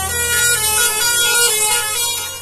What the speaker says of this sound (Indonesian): membunyikan klakson